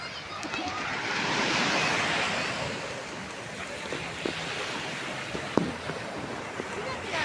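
Steady wash of ocean surf rolling in, a broad continuous roar with wind noise and a few faint clicks near the end.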